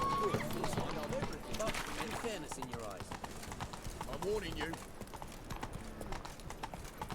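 Horse hooves clip-clop steadily at a running pace in The Witcher 3, a continuous rhythmic beat on the road heard alongside game noise and someone talking over it.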